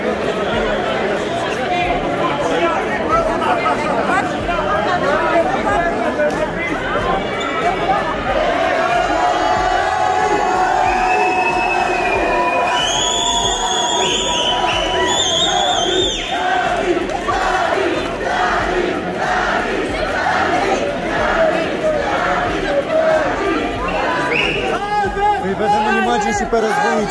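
A large, noisy crowd cheers, shouts and claps continuously to welcome home Survivor contestant Albert, dense and steady throughout, with voices talking and a brief whistle-like tone amid the roar.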